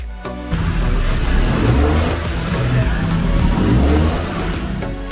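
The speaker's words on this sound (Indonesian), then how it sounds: "satu montir lagi berada di dalam kabin sambil menginjak pedal gas" A Nissan car's engine revs under a mechanic's foot on the gas pedal during intake carbon cleaning at a MOBENG workshop in Sunter, a sustained loud roar that rises and falls while a voice talks over it.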